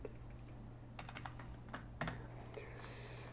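Quiet bursts of keystrokes on a computer keyboard while code is typed, irregular clicks and clusters of taps, close and faint, with no voice.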